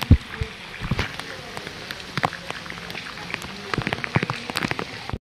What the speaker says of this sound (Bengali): বৃষ্টি ক্রমশ বেড়ে যাচ্ছে।